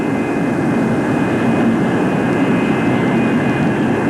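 A Convair F-102 jet aircraft on a high-speed ground run gives a loud, steady jet engine roar with a whining tone that stays constant throughout, heard alone.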